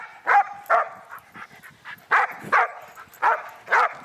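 A reactive dog barks in loud, repeated bursts, some sharp and close, mixed with softer yips and whimpering sounds between them, with no talk over the barking.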